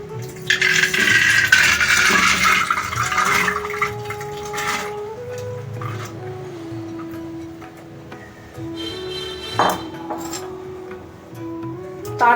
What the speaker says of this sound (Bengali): প্রথমে ডালটি আমি কুকারের মধ্যে দিয়ে দিচ্ছি।